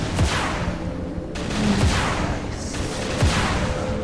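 Repeated gunfire from a weapon in the shooting game Dead Target, a few loud bursts spaced about a second apart over steady background game noise.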